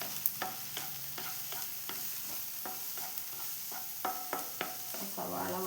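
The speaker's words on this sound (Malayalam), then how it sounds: "അടിച്ച് വെച്ച സവാള വഴന്ന് വന്നു." Chopped onions sautéing in a pan, with steady soft sizzling and repeated scrapes and clacks of a spoon stirring, close and alone.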